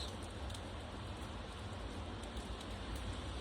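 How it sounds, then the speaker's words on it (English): Steady rain falling outdoors on a rainy day, a dense, even hiss with faint patter, continuous and moderately quiet with no voices. "today is a rainy day"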